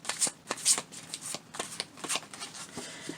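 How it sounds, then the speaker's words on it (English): Tarot cards are shuffled by hand, producing a run of quick, crisp riffling and slapping bursts in an irregular rhythm, close and fairly quiet, with no talking over them. "if you would prefer to not sit through the live shuffle and drawing of the cards, pulling of the cards"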